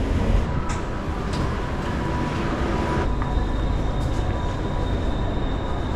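A Bangkok subway train rumbles along steadily, with a low roar and a faint high whine from the rails, loud and close.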